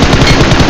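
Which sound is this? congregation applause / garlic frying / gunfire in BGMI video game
gunfire in BGMI video game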